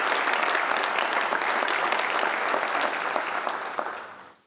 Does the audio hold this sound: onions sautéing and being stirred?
no